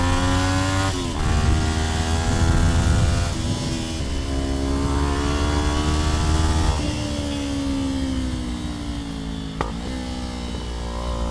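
Kawasaki Ninja 400 motorcycle riding hard through a tight decreasing-radius corner, engine droning loud and steady with rising and falling revs, a shift or throttle change near the end bringing a short sharp exhaust pop.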